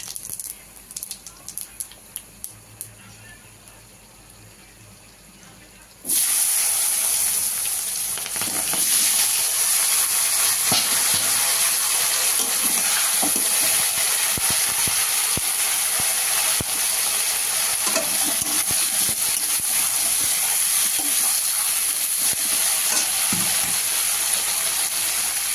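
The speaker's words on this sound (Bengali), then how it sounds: "মাছ ভাজা তেলের মধ্যে গোটা জিরা ফোড়ন দিয়ে দিলাম।" Whole cumin seeds hit leftover fish-frying oil in a Bengali kitchen. After a quiet start, a loud sudden burst of sizzling hiss and crackle rises and carries on evenly to the end.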